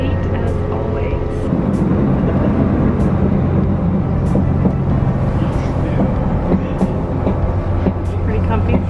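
Inside a clean, modern local regional train, a steady low rumble of the ride carries on with a hum and periodic rail clicks, loud and close, with no talk.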